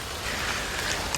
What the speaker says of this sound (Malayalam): ഇവിടെ നിന്ന് നല്ല മഴ പെയ്യുന്നുണ്ട്.